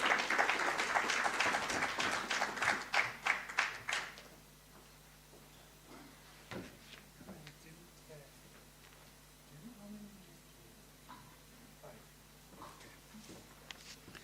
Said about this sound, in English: Can we please give him a round warm of applause?